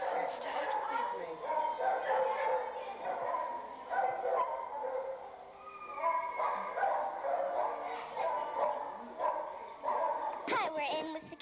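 Several dogs bark, yip and whimper throughout an animal shelter's dog section during morning cleaning with hoses, the barking overlapping in dense, continuous bursts amid echoing kennel noise, with people talking faintly underneath.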